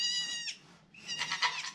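A newborn goat kid on a farm gives two short, quavering bleats close to the microphone, with a brief pause between them. The second bleat is slightly longer and louder.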